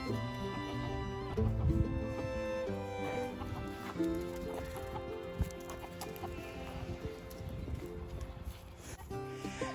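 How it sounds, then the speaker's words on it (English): A chicken clucks on a farm alongside a reunited flock of sheep, with soft repeated clucks under other animal noises and rustling close by, and no one speaks. "Is that your chicken?"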